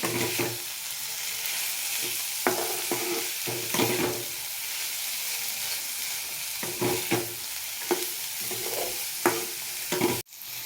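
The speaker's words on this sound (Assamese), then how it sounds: "ফুলখিনিও মই এনেকৈ ল' ফ্লেমত ভাজি থাকিম।" Sliced banana flower frying on a low flame, a steady soft sizzle broken by repeated scraping stirs of the spatula, with a sudden clatter and dip near the end.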